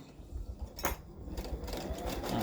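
Embroidery machine sewing a placement stitch on card stock for a greeting card, a close, steady mechanical whir and rapid needle chatter that grows slightly louder, with one sharp knock early on.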